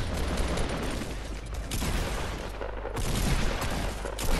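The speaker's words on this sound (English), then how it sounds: "we're gonna get a shotgun finish on him" Rapid gunfire in a Fortnite battle royale match, a dense burst of overlapping shots and booms that runs almost continuously, loud and close, with no talking.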